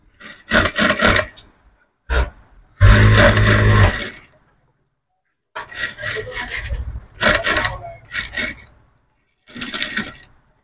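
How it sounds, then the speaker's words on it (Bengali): A sewing machine stitching a V-neck on a garment, with several short bursts of rapid mechanical rattling separated by pauses, close and fairly loud, with no talking. "এখন এই যে গলাটার মেশিন সেলাই দিয়ে নিব"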